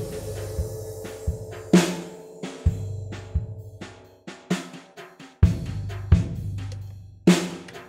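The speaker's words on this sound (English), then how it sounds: "the scratch drum track that I laid down here, which sounds like this" A sparse jazz drum groove in 6/8 with soft brushed snare swishes and light cymbal accents, steady and fairly close, with no voices.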